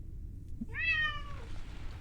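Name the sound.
cat meowing from a portal companion cube in The Talos Principle video game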